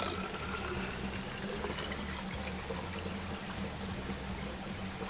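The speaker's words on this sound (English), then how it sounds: "I'm gonna take a pot here to put water" Water poured from a container into a cooking pot during a camp stove test, a steady continuous splashing pour lasting the whole stretch, close and moderately loud with no talk over it.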